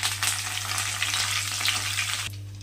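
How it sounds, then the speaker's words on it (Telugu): Curry leaves crackle and sizzle in hot oil alongside golden-fried chana dal for a raw mango pulihora tempering, a steady close frying hiss that stops abruptly near the end. "కరివేపాకుని కూడా యాడ్ చేసుకుందాము."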